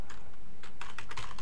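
Rapid typing on a computer keyboard during an AutoCAD software demo, a quick cluster of close, crisp key clicks heard alone with no talk.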